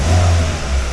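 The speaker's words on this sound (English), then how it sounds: "as we bring up the revs, duty cycle decreases to advance the cam" A Hyundai i20 petrol engine revs up steadily and close by, a continuous low droning roar that holds through the short moment, with no talking over it.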